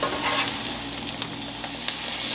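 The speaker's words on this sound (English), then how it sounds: "And we're going to saute these for another 3 or 4 minutes." Mushrooms and onions sauté in a hot pan for turkey tetrazzini, giving a steady, close, dense sizzle with small pops and crackles throughout and no voices.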